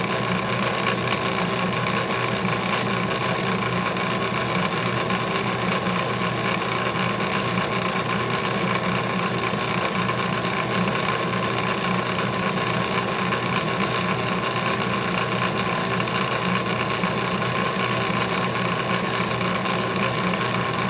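An antique model metal shaper runs steadily, a dense continuous mechanical whir and rattle of small moving parts, close and fairly loud throughout with no pauses.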